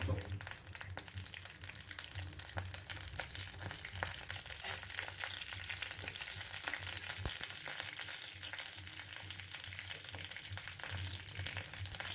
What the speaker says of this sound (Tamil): கொஞ்சமாக எண்ணெய் விட்டு கடுகு போட்டுருவோம்